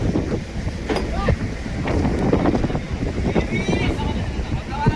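Strong wind buffets the microphone aboard a fishing boat at sea, a loud, gusty roar that rises and falls continuously, with brief creaks and knocks mixed in.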